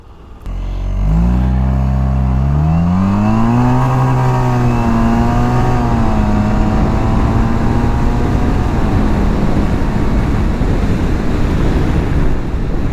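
A Suzuki Burgman 650 scooter engine in manual mode revs up, climbs in pitch through a couple of gear steps, then holds a steady drone under strong wind noise.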